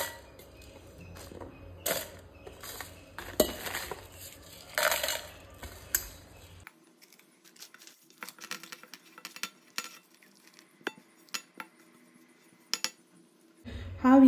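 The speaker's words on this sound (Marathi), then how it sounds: "तर हे न्ही आतां आमी एका मिक्सर जारान घालून घेवया।" Ingredients are tipped and spooned into a mixer jar in a home kitchen while a Goan kite fish ambot tik is being prepared, giving scattered clinks, scrapes and clatter against the jar with quiet gaps between them.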